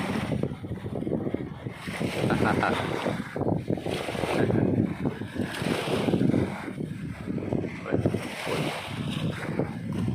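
Steady wind gusting across Pattaya beach in Thailand on a busy holiday evening, a loud continuous rushing roar with buffeting microphone noise and surf beneath, swelling and easing in waves throughout.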